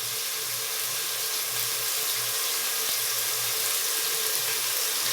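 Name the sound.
tap water running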